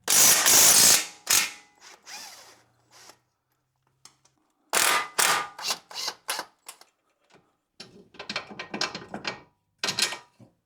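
Ratchet undoing suspension bolts on a Subaru WRX during a coilover install, heard as close, sharp clicking bursts of varying length separated by short pauses.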